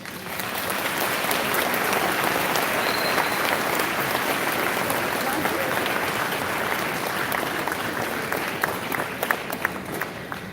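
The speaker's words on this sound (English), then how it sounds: "Let's all give them a round of applause." Sustained applause from a school Veterans Day assembly audience, dense steady clapping filling the room from start to finish with a faint murmur of voices underneath.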